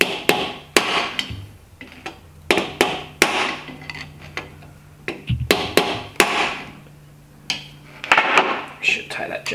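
A solid steel-shank screwdriver is worked back and forth in the gaps of a GM 10-bolt axle, producing repeated sharp metallic knocks and taps in uneven clusters close by.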